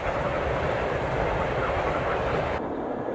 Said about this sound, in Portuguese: Os trens estavam correndo.